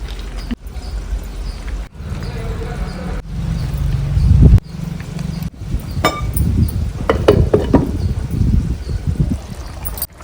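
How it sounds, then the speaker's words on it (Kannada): Spinach (palak) gojju simmering in a pot on the stove, a steady bubbling, trickling burble close by, broken into short segments with some clatter toward the end. "ಗೊಜ್ಜು ಒಲೆ ಮೇಲೆ ಕುದೀತಾ ಇದೆ"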